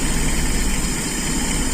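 A carburetor engine idles while warming up, giving a steady, continuous low rumble with an even throb, close and unbroken throughout, with no voices.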